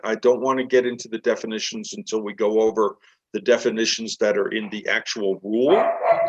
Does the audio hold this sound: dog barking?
yes